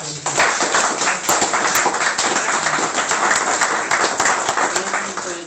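A friendly crowd at a garage event on off-grid solar applauds to welcome Mark Haggerty, president of Michigan Solar Solutions: steady, dense clapping that holds at an even level throughout, with no voices rising above it.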